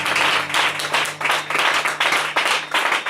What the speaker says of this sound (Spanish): Dale palmas